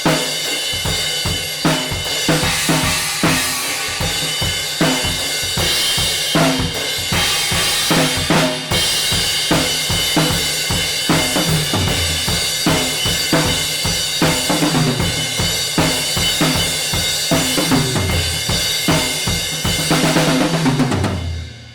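Full band track with a drum kit driving from a chorus into a post-chorus tag, with a four-on-the-floor bass drum and crashing cymbals, loud and dense throughout before stopping abruptly at the end.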